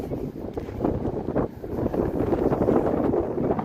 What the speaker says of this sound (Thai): ลมแห้งคักจ้ะ